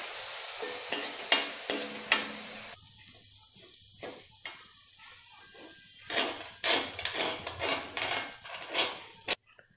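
Samak rice roasting in a pan over low to medium flame, stirred with a series of close, rhythmic scrapes and light clinks of a spoon against metal over a faint sizzle, with no one speaking.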